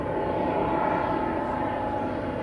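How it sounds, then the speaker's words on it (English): Steady broadband engine roar of a plane overhead, loud and constant throughout, with a faint hum underneath and no talking. "I hear an airplane coming."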